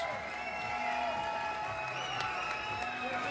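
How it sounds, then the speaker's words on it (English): A boxing arena crowd applauds the fighters after a super flyweight championship bout, with steady clapping and cheering under a tonal hum and some background voices. "let's have a round of applause for the amazing effort from these two super flyweight"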